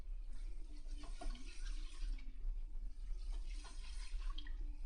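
Water runs steadily from a salon shampoo-bowl sprayer as hair is rinsed, a continuous close hiss with small splashing shifts as fingers work through the hair.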